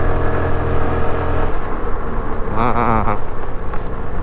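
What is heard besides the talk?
Suzuki Avenis 125 scooter engine revving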